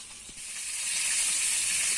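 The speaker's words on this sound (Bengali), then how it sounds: "ওই পাশে চুলায় মাছ ভাজি হচ্ছে" Fish frying in oil on a stove in a village kitchen, a steady bright sizzle that swells slightly and then holds, close and fairly quiet, with no voices.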